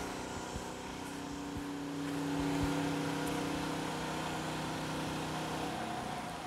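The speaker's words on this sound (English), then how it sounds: "Generac IQ 3500, 58 decibels on a full load." A Generac IQ3500 inverter generator runs under full load with a steady engine drone that holds even throughout, swelling slightly partway before settling back.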